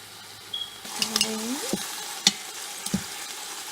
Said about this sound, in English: Now those are browning so nicely.